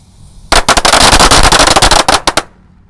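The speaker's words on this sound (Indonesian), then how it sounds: "ini ada mercon Betawi renteng guys" A string of Betawi firecrackers set off, a rapid loud burst of sharp cracks rattling for about two seconds, then a few last pops before silence.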